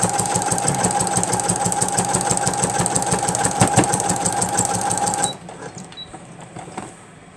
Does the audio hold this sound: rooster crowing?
no